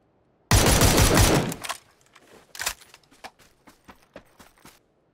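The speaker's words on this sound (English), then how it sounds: "He just shot in the air." A rapid burst of gunfire shot into the air in the PUBG video game, loud and dense for about a second, then lighter scattered clicks and thuds of movement.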